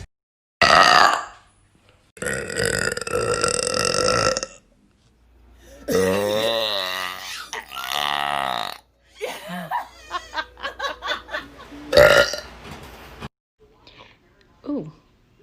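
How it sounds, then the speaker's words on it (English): Several small burps and giggles from a young woman, short bursts separated by pauses, with laughter and brief talk in between. "Also, when I want to make tiny little burps"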